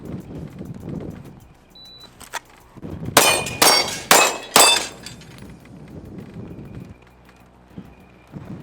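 OZ9 HyperCOMP pistol with a metal frame fired at steel targets: four loud, sharp shots in quick succession, each ringing off steel, with quieter shuffling and ambient noise before and after.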